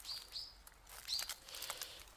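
Birds chirp in a mountain forest beside an abandoned house, a few faint, thin high calls scattered over quiet background rustle.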